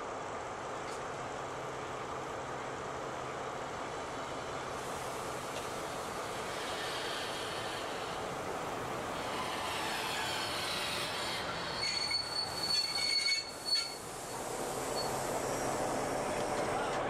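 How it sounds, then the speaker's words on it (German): A steam train hauled by locomotive 86 1323 rolls into Zinnowitz station on Usedom island steadily with a broad rumble, then high metallic wheel squeals ring out near the end as it slows. "Einfahrt in den Bahnhof Zinnowitz"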